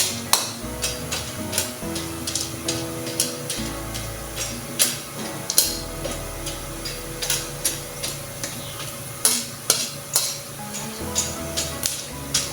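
Popcorn kernels popping in a pan, sharp close pops at irregular intervals, several in quick succession, over a steady frying sizzle.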